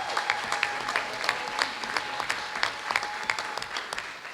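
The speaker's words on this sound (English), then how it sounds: "big round of applause for her" A school board meeting audience gives a student wrestler a round of applause, sparse, distinct hand claps with an uneven rhythm in a room, fairly modest in size.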